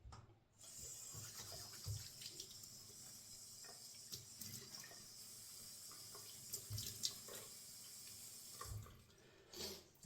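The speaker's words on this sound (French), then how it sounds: "Donc maintenant je vais rincer mon visage." Water runs steadily from a tap into a sink while a face is rinsed, a continuous soft hiss with splashes and small interruptions as hands move through the stream.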